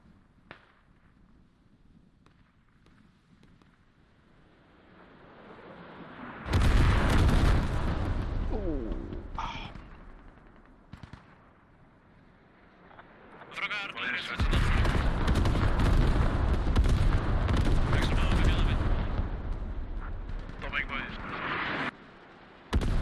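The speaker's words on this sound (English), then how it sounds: "Sounded like artillery. Yeah, we got artillery landing." Artillery shells landing in the military shooter game Squad, heavy rumbling blasts arriving in two long loud stretches with sharp bursts between them, against a quieter background with faint voices.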